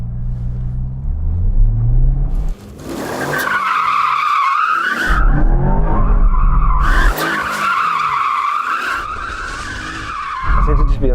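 A Corvette spins its tyres with traction control off to warm them, producing loud, sustained screeching squeals over a deep engine rumble, in repeated bursts with brief lulls between.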